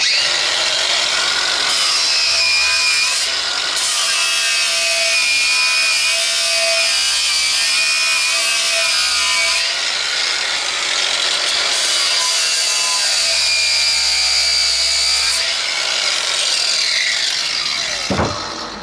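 A metal Warn bullnose Ford bumper being scraped and ground clean before tack welding, a loud, rough, continuous abrasive rasp with brief pauses and shifts in pitch, no voices.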